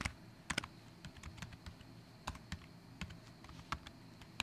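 Someone types an email note on a computer keyboard, with sporadic, close key clicks and a few louder taps against a faint background hiss, unhurried and irregular.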